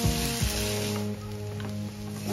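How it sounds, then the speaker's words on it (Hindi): Boiled black chickpeas fry in a pan of masala, giving a steady sizzle with a low, even hum beneath, close and continuous without talk. "अब चने के साथ हम 3 मिनट इसको और फ्राई करेंगे।"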